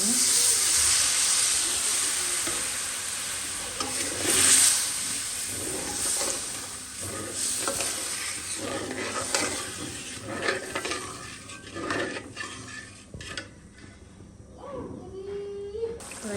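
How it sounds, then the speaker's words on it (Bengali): Spice paste being fried in oil in a home kitchen, with a steady close sizzle and hiss, scraping stirring strokes throughout, and faint voices at times. "মশলাটা আমি কষাই নেব"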